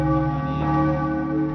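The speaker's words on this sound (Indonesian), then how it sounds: "Sementara lonceng gereja juga berdentang pada waktu tertentu, pertanda dimulainya peribadatan bagi umat Katolik" Church bells in Sawahlunto, Indonesia, ring steadily to mark the start of Catholic worship, with a sustained, resonant tone that hangs in the air.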